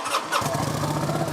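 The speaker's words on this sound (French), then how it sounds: "Je vais démarrer la moto." A Kawasaki VN900 Classic motorcycle engine cranks and fires up, settling into a steady, close mid-range running rumble after a brief starter whir, with no talking.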